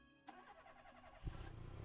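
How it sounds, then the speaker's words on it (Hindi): A car engine cranks and catches with a sharp mechanical burst, then settles into a low, steady idle rumble. The whole thing is brief and fairly quiet, with no talking. "उसने आधे घंटे में गाड़ी स्टार्ट करवा दी।"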